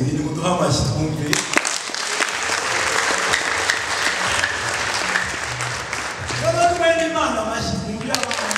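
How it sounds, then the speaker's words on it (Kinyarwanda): Audience applause at a church-style wedding gathering, a sustained wash of many hands clapping across the room, loud and steady for several seconds with voices rising over it near the end. "muduha amashyi twumve."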